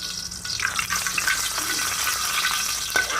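Garlic frying in hot oil in a wok, a steady close sizzle and crackle with occasional sharper pops, continuous throughout with no talking.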